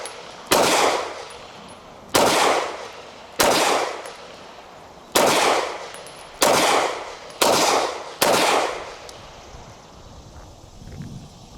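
A Hudson H9 pistol fires seven loud, sharp shots outdoors, each spaced about one to two seconds apart and followed by a ringing decay, with no talk.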